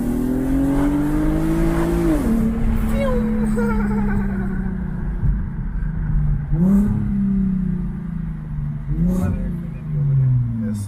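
A VQ37VHR V6 car engine revs up and drops back several times, rising in pitch with each push, loud and close, with a deep rumble underneath.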